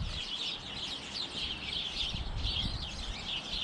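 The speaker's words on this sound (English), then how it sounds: "The bird's up there yelling at me." A bird calls from above a vegetable garden in cold weather, a repeated series of chirping squawks at a moderate distance over faint outdoor background noise, no talking.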